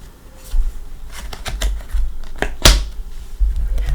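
Tarot of Dreams deck shuffled by hand, a few close papery riffles and card slaps with one sharp snap midway, steady and unaccompanied by talk.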